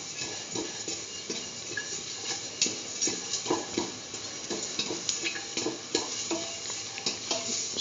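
A beetroot mixture for curried green pea and beetroot rice, salted and frying in a pan, is stirred continuously: a steady close sizzle with repeated scraping and tapping strokes throughout, no talking.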